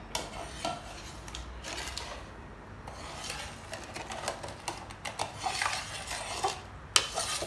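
Egg salad dressing of fish sauce, sugar and lemon juice is stirred in a bowl, giving irregular clinks and scraping swishes of a utensil against the dish, close and fairly quiet, with no talk.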